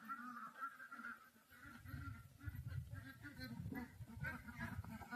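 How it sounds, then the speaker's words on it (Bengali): Domestic country ducks quacking close by on a village homestead, a dense run of overlapping nasal calls that keeps going throughout with no break, loud and near. "এই দেখো হাঁস, দেশি হাঁস।"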